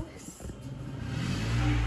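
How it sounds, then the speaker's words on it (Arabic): A car engine revs and strains while trying to drive into a garage through heavy snow during a storm, a low rising drone building louder toward the end, with a voice speaking early on. "ومحاولات صديق لإدخال السيارة."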